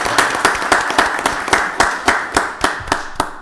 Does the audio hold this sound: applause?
yes